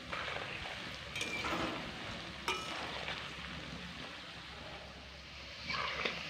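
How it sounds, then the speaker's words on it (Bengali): Potato balls fry in a pan of hot oil while being stirred, a soft continuous bubbling sizzle broken by occasional light clinks of a utensil against the pan, fairly quiet and close. "এইভাবেই এগুলোকে নাড়াচাড়া করতে করতে একদম মুচমুচে করে ভেজে তুলে নেব।"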